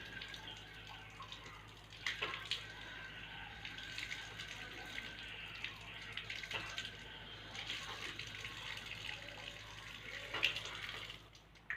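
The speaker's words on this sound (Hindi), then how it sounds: "हाथ धोने के बाद आपने कुली करनी है 3 दफ़ा।" Running tap water during wudu ablution, splashing faintly as the mouth is rinsed, a soft steady trickle with a few brief splashes and no talk.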